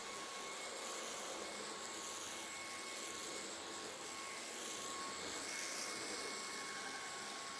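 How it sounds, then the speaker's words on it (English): A eufy E20 robot vacuum cleaner runs on max mode, giving a steady, airy whine with a constant hiss that stays unchanged throughout. "I'm gonna set the vacuum to its max mode now."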